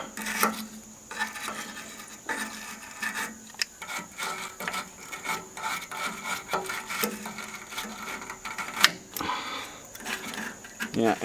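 A pipe clean tool scrubbing the threads of a hydraulic hose fitting on a Ford 555 backhoe out in the field, giving a continuous close rasping, scraping rub with small rhythmic strokes and occasional clicks, with a voice heard faintly at times.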